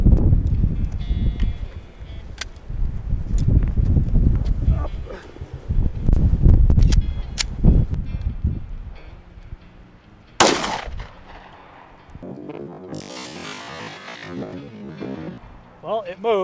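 Pistol shots from a 5.7 NATO and a 7.62x25 fired at 6x6 wooden posts outdoors: several sharp, loud cracks spaced through the first half, then a fainter thump and rustling with wind, talk running throughout.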